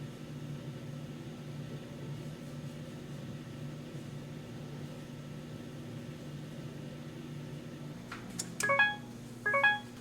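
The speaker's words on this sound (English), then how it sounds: "As you hear, the oven is preheated at 450 degree Fahrenheit." A wall oven running on convection bake, preheated to 450 degrees Fahrenheit, gives off a steady low fan hum. Two short bursts of electronic beeps sound near the end.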